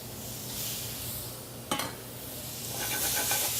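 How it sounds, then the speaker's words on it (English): Chicken and shrimp sizzling in two pans with wine, a steady soft hiss of frying with a sharp metal clink of a utensil partway through, followed by stirring and scraping. "Now I'm actually cooking this in 2 pans because it will cook the chicken faster this way."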